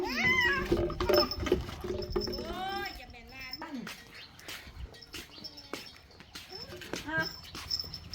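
A cat meows repeatedly near a rural Thai home, with several clear, drawn-out cries between stretches of people talking and occasional knocks and clatter.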